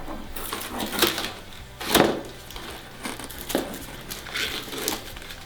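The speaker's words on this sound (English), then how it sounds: "just cut the tape off so you're not pulling on that very hard" Plastic crinkling and rustling as tape is cut off a plastic-wrapped RC plane tail part for a Phoenix Model FunStar, with a few sharper crackles and snips standing out from a steady low background hiss.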